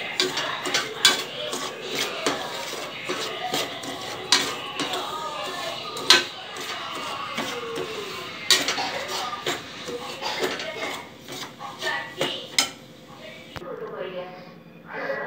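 Semolina (rava) is roasted in a pan on the stove and stirred with a metal spoon, making irregular clinks and scrapes against the pan under quiet talking.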